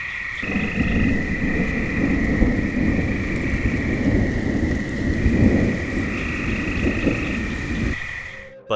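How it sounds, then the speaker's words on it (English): A night thunderstorm at a campsite: steady pouring rain drums loudly and continuously while low thunder rumbles underneath throughout, ending abruptly. "Rain started pouring, and distant thunder rumbled ominously."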